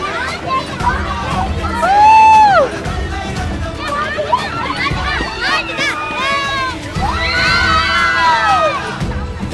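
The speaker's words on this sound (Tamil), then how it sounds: "விடுமுறையில் வீட்டில் இருக்கும் குழந்தைகளும் பெரியவர்களும் வானில் நடக்கும் சாகசங்களை பார்த்து மெய்சிலிர்த்து ஆரவாரம் செய்து மகிழ்ந்து கொண்டிருக்கின்றனர்" Children and adults cheer and shout excitedly at an Indian Air Force air show, with high squealing kids' voices and rising bursts of crowd hubbub that swell loudest around two seconds and again near the end.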